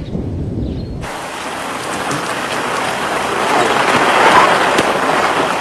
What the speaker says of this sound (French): Oui, mais je les vois, il pleut.